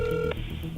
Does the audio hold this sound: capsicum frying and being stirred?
no